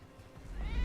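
A cat meows once in the video game Split Fiction, a short rising call over a noisy game background.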